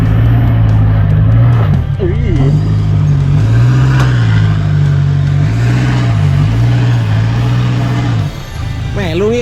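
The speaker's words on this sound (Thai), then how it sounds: "เราเอาลีโวสองคันนี้มา ทดสอบให้ท่านลูกค้าได้ดูนะครับว่าแต่งสเต็ปนี้เนี่ย ก็ลุยได้ทุกที่นะครับ" Two modified Toyota Revo pickup trucks with automatic gearboxes driving off-road on a hill trail, a loud engine drone that rises and dips with revving throughout, with voices talking over it.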